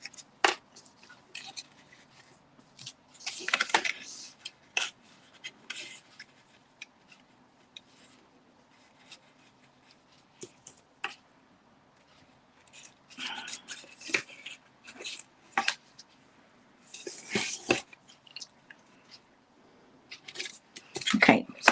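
Scissors snip through card in short, separate bursts, some of them quick double or triple cuts, set apart by quiet gaps with soft handling rustles, fairly close and with no talking.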